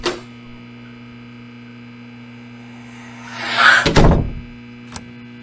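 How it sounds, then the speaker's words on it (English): A door creaks and swings open, ending in a dull thunk and a short knock, with a steady electrical hum beneath. "You open the door."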